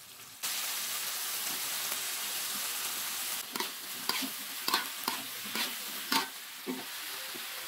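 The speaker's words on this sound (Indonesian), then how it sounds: "Masukkan brokolinya dan tumis-tumis kembali." Broccoli and carrots stir-fry for a mushroom chop suey: a pan hisses as the vegetables hit it, followed by a steady sizzle broken by irregular scraping stirs, close and moderately loud with no talking.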